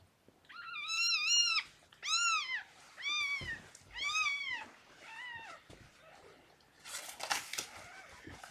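A small kitten gives a series of high, squeaky meows, about six in a row, followed by some rustling and shuffling close by.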